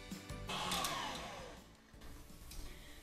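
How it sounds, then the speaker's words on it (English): An electric mixer whirs steadily while beating Italian meringue, a loud continuous motor whine with a slight dip midway and no voices. "keep the mixer running until it has completely cooled"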